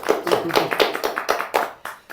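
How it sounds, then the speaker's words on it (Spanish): A small group at a Day of the Dead gathering claps in a quick, fairly regular rhythm of distinct, close handclaps, roughly four per second, without talk. "un aplauso para el señor"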